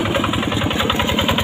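A tractor engine runs steadily in a rice paddy during field work, with a continuous, close mechanical drone and no talk.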